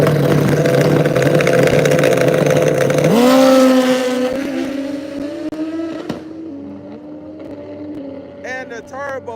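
Drag racing motorcycles scream down the strip in a loud, sustained high-revving engine roar that shifts pitch partway through, then fades as they pull away, with a brief announcer voice in the mix.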